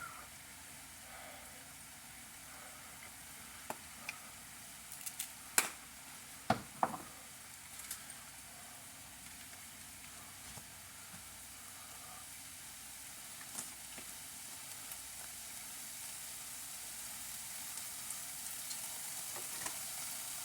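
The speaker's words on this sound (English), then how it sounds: "Alright, you hear that sizzling?" Steady hissing sizzle of shrimp frying in a pan, with a few sharp clicks and clatters of utensils early on, continuing evenly throughout.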